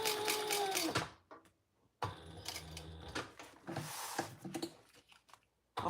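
A sewing machine stitches across a strap in quick bursts of loud, rapid mechanical rattling, pausing briefly between runs of stitching, close up with no talking.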